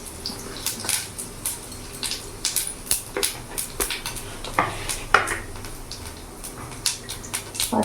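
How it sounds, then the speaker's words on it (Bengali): Panch phoron five-spice with bay leaves and a broken dried red chili fries in hot oil in a pan, a soft, steady sizzle under frequent light clinks and scrapes of a stirring utensil. "পাঁচফোড়নটা আমার ভাজা হোক"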